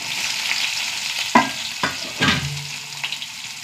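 Mustard seeds, garlic cloves and small shallots fry in hot oil with a steady broadband sizzle, punctuated by a few sharp crackles and pops, including one louder spit near the middle, with no talking.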